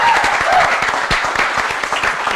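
Applause breaks out in a podcast studio, a lively burst of clapping from several people close to the microphone, dense and loud throughout with voices mixed in beneath it.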